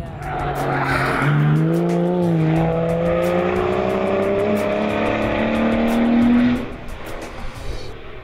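A race car on a track, loud and close, with rising engine revs and squealing tires that build for several seconds and then cut away abruptly.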